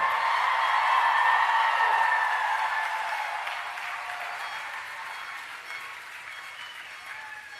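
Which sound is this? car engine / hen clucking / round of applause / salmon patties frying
round of applause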